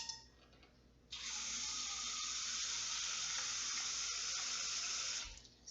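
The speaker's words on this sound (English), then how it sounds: "So I'm going to go ahead and start measuring out my water." Tap water runs into a container to be measured for making borax crystals, a bright, steady rushing stream that starts abruptly after a second, pours evenly for about four seconds, then cuts off.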